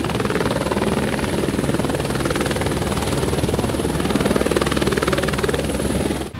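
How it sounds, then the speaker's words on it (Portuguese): A police helicopter approaches a traffic accident scene, its rotor chopping steadily and loudly throughout, a continuous thumping drone with no pause, close and dominant. "acompanham o momento em que o helicóptero Águia se aproxima"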